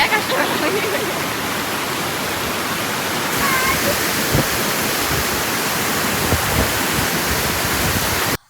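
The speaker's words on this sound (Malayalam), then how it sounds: "ഇതാ നമ്മൾ വെള്ളച്ചാട്ടത്തിന് തൊട്ട് താഴെ എന്നെ എത്തിയിട്ടോ" Vattai Waterfalls in Thrissur, Kerala roars close by, heard from just below the falls, a dense, constant rush of falling water that fills the whole scene without letting up.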